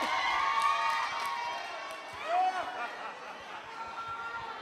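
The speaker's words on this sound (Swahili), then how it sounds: "Makofi na vigelegele." A crowd at a singles-challenge party in a venue hall cheers and lets out shrill, wavering ululations that rise and fall over steady crowd noise, with one louder trill near the middle.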